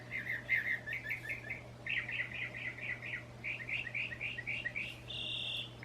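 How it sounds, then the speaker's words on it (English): A bird sings outside an open window in repeated bright chirping trills, phrase after phrase, moderately close, over a low steady indoor hum. "The bird is singing away today"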